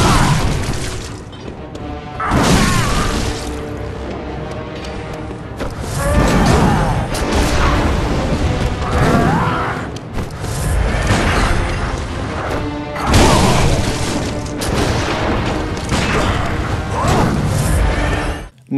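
A string of boss attacks in the video game Bloodborne: repeated heavy crashing impacts and bursts, loud and dense, layered over continuous orchestral game music and effects.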